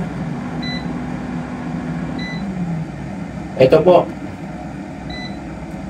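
An air fryer's timer being set gives a few short, high electronic beeps spaced seconds apart over a steady background hum, with a brief rattling clatter and a person talking nearby.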